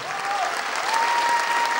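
An audience applauds a senior group from a folk dance studio, producing dense, continuous clapping from a crowd at a steady level, with a faint tone running underneath.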